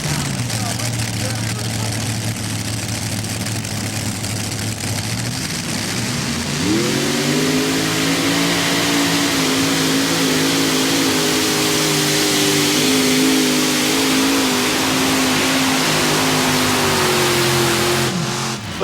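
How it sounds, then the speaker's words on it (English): Modified pulling tractor with four engines roaring at a Bowling Green tractor pull, a loud sustained drone that rises in pitch partway through and holds, with an announcer talking over it. "Always tough with this 4-engine tractor out of Fort Wayne, Indiana."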